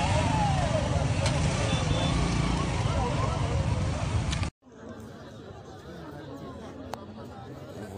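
Crowd chatter and idling, passing vehicles at a blocked roadside checkpoint at Kibati near Goma, a steady dense hubbub of voices and engines that drops abruptly partway through and resumes quieter, with people talking throughout.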